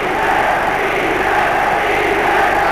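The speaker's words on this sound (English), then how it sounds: "the crowd cheering England now" Crowd noise from the stands at the 1967 England v Scotland football match, a steady, dense roar of many voices held at one level throughout, broad and continuous with no break.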